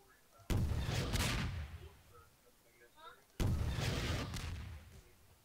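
Big guns fire in a Garry's Mod game: two loud, sharp booming blasts a few seconds apart, each trailing off into a rumbling decay, with quiet stretches between.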